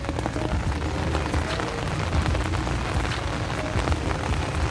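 Steady rain falls in Baguio City, a dense, even hiss of drops on surfaces that fills the whole stretch with no pauses.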